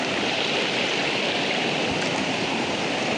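A village river runs with force, a loud, continuous rushing roar of water close by with no talking.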